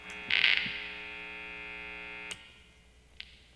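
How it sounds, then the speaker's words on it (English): Steady electrical mains hum from single-coil pickups on a Novo Serus J electric guitar, a constant buzzing drone with a brief louder burst near the start and a couple of faint clicks, no talking. "these are single coil pickups, so you're still going to get hum in there"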